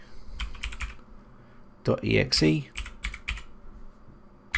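Someone types a command into a computer's command prompt on a keyboard, with quick clusters of close key clicks and a denser burst of keystrokes in the middle.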